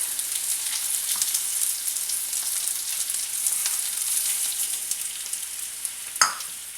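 Rice hits a hot pan of browned garlic for Mexican rice and sizzles in a steady, bright frying hiss, with a sharp clatter of stirring near the end; no one speaks.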